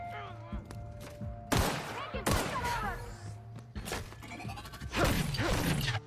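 Gunfire in the video game The Outer Worlds, several sharp loud shots and impacts in quick bursts with clattering mechanical sounds, while a player talks between and over them.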